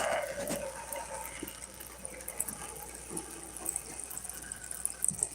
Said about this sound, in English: We spray down the sides a little bit, not too much because the soil's already fairly damp.